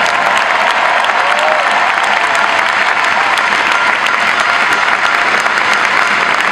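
Steady, loud applause from a tennis crowd at a Fed Cup tie between Germany and Romania, honouring the German team's win; dense clapping continues unbroken with no speech.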